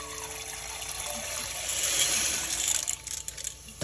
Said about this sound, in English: I'm going to pour the achiote.